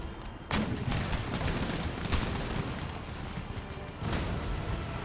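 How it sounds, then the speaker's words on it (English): Artillery fires in a strategy video game battle. A steady, dense roar of booming shots carries on throughout, with heavier bursts near the start and near the end. "my artillery is just focusing on them"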